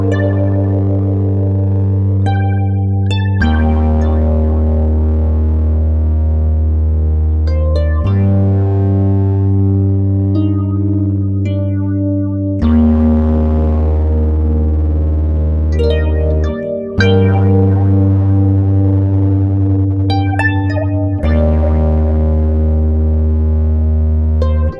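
Harp bass strings fed through a Sun Fuzz pedal and the rest of the harp through a Light Cycle Phaser 2, a Mutron-based circuit. Sustained fuzzy, phased plucked notes ring out in long overlapping phrases, loud and continuous.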